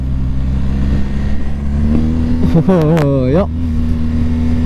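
A motorcycle engine idles steadily, then a quick twist of the throttle sends it into a short, sharp rev that rises and falls back to idle. It is loud and close, and someone speaks briefly.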